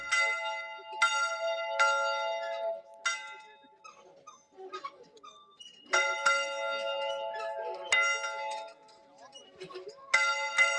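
A bell rings out at a post-game celebration after a high school varsity football playoff game, struck in loud, ringing peals at irregular intervals with crowd voices and talk underneath.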